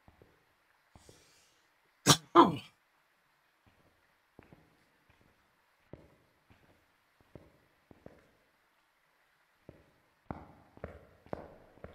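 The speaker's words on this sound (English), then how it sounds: "Oh, that was a cough. It sounds like a sneeze, but it was a cough." A single sharp cough, sounding almost like a sneeze, bursts out loud in a quiet room during a Phasmophobia ghost-hunting game, followed by sparse faint taps and footsteps and a cluster of soft clicks near the end.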